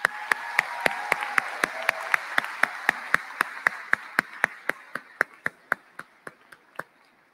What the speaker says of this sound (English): Please join me in giving these talented students a loud round of applause.